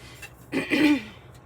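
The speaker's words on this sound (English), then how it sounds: "Sorry guys, I have to clear my throat." A single throat clearing, close and fairly loud, a short rasping burst followed by a brief voiced hum, with quiet room tone around it.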